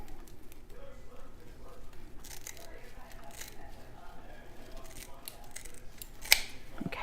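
Scissors cutting wreath material, a few light snips spread over quiet room noise and handling rustle, with a sharp click near the end.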